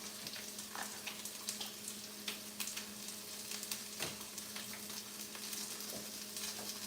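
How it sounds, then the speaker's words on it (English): Water hits hot oil in a frying pan and sets off a steady, crackling sizzle, with scattered sharper pops over a constant hiss and no talking. "when you have like hot boiling oil and you add water into it, that's how you start a fire"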